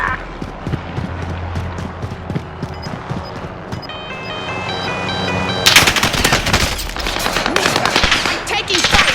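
Machine gun fire in the battle royale video game Warzone, with rapid bursts of automatic shots that build into dense, loud gunfire in the second half, mixed with game effects, tonal beeps and intermittent voices.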